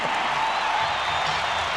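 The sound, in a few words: basketball arena crowd cheering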